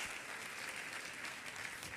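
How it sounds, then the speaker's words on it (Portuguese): A church congregation gives a brief round of applause, a faint, even patter of clapping hands heard from a distance. "Você pode dar um aplauso ao Senhor pela leitura de sua palavra?"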